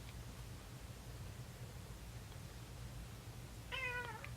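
A house cat lets out a single short meow near the end, after a stretch of faint steady background hiss.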